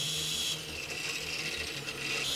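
A homemade electric car powered by an angle grinder motor whines steadily at high pitch as it rolls along, a sustained motor drone with a slight shift in tone midway, close and fairly loud with no talking.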